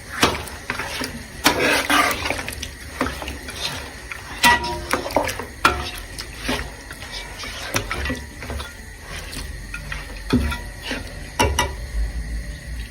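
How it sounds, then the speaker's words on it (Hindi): Mutton pieces frying in oil for a pulao, a continuous hiss broken by irregular clicking and scraping strokes from stirring, fairly close and loud. "इसको हम इस ऑयल में अच्छा सा भूनेंगे।"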